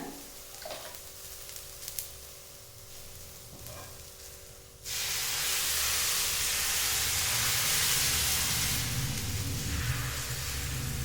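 Rava dosa batter hits a hot pan with an abrupt, loud, steady sizzle that takes over after a quieter stretch of faint kitchen sounds, then holds evenly to the end with no talking.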